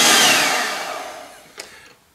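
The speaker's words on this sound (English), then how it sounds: "we're going to turn up the speed, and we're just going to keep beating this until we get nice stiff peaks" Electric hand mixer whipping egg whites at high speed toward stiff peaks for sponge finger biscuits: a loud whirring whine that winds down and fades, followed by two brief clicks or knocks.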